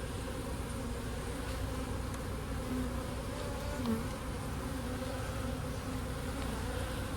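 An open, boosted hive of honey bees hums loud and unbroken while frames are checked for transfer, a thick continuous swarm drone with no talking.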